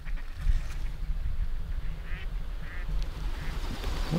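Ducks quacking during a black duck hunt, several short calls spread through the clip over steady low wind-like rumble, moderately distant.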